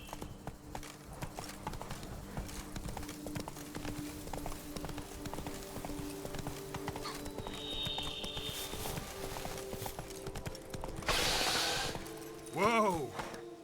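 A horse gallops in The Witcher 3 Blood and Wine, rhythmic hoofbeats clip-clopping steadily up close, with a brief burst of noise near the end and a whinny-like call at the finish.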